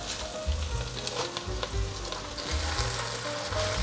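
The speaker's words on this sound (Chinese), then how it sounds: "现在放入大白菜的叶子，把大白菜的叶子放进来" Chinese cabbage leaves stir-fried in a wok after the salted stems, a steady close sizzle with repeated low scraping thumps of a spatula tossing the leaves.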